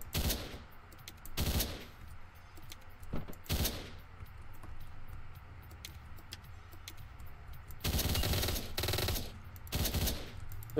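Gunshots in the Hotline Miami top-down action game come in several short, loud bursts separated by quieter gaps, the longest burst arriving near the end.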